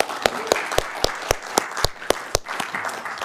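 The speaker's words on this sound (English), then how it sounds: "Big round of applause." Round of applause at a city council meeting, with sharp, evenly spaced claps standing out in a steady rhythm over a softer bed of crowd clapping and room noise.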